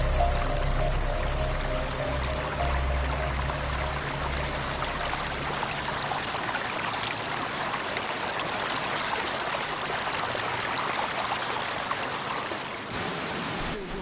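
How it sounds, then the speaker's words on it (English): A brook runs through wet mountain rainforest as a steady, broad rushing of flowing water, close and continuous throughout, with some low rumble at the start. "Luckily, after about an hour, the team found a brook they could follow."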